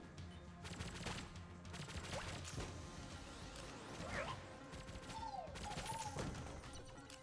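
Rapid shots from Mr. Accretion Jr. in Enter the Gungeon, a dense run of gunfire bursts and impacts running through the whole stretch with chirpy game effects layered on top; no talking.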